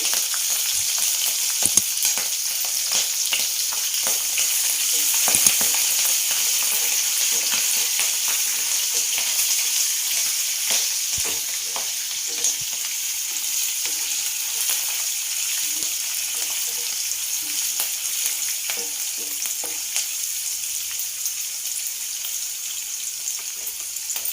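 Green chillies fry in a pan for coconut rice, giving a steady, close hiss and sizzle that runs unbroken throughout with small crackles and occasional stirring taps.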